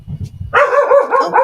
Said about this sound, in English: My dog is the ultimate watchdog.